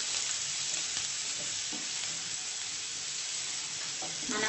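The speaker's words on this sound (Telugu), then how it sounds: "ఆనియన్ పీసెస్, కొంచెం ఫ్రై అవ్వాలి" Onion pieces frying in a pan for vegetable curry bun filling, a continuous soft sizzle with light stirring throughout, fairly quiet and steady with no talking.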